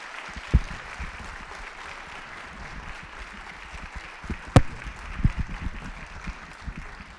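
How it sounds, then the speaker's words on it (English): Applause from the audience at Westwood's annual town meeting for newly elected town officials: a steady, moderately quiet wash of clapping from a seated crowd, with a few sharper individual claps and thumps. "let's give our newly elected officials a round of applause"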